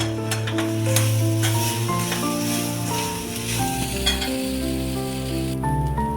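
Kanda poha is stirred in a hot pan after salt goes in, a soft continuous sizzle and scraping under steady background music, with no talking.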